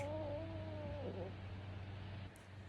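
A cat gives a single drawn-out meow up close that bends and fades after about a second, followed by quiet room background.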